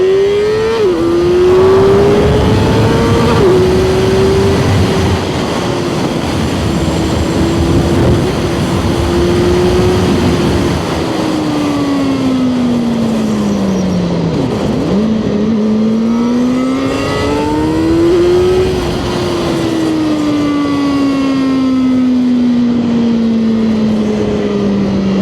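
A sport motorcycle ridden through city streets, its engine droning loud and close with rising and falling revs as it accelerates and shifts, wind noise underneath.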